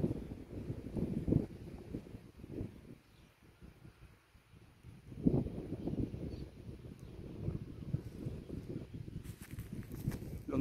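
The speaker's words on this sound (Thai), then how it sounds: "วันนี้ลมแรงมากครับ" Strong, shifting wind gusts buffet the microphone outdoors while a large buffalo-shaped kite is flown, producing a continuous low rumble that surges louder in bursts, with no clear speech.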